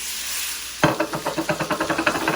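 Meat for Hyderabadi pickle hits hot oil with a sudden sizzle, then a spoon stirs it in a steady, rhythmic scraping pattern, close and crackling, with no voices.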